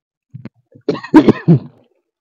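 A person coughs up close, a short rough burst followed by a louder run of two or three harsh, throaty coughs, each ending abruptly before quiet returns.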